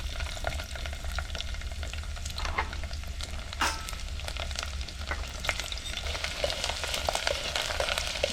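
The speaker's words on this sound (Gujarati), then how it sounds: "હવે આપણે શું તેલ ગરમ થઈ ગયું છે આ લસણના કટકા નાખી દઈએ" Chopped garlic pieces dropped into hot oil for tempering crackle and sizzle loudly and continuously up close, with sharp pops and spattering over a constant frying hiss and no voices.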